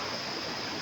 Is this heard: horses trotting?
no